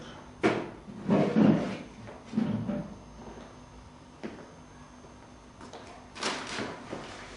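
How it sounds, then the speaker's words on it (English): A wooden drawer slides shut and a lock turns with several soft knocks and a faint click, spread over a few seconds in a quiet, slightly roomy space with no one speaking. "He took the picture by one corner and carried it across to a drawer, which he carefully locked."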